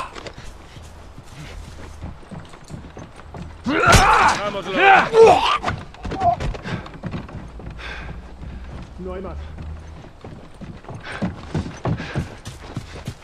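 Horse hooves clip-clopping in the video game The Last of Us, a moderate rhythmic patter behind someone talking, with a louder burst of game noise early on.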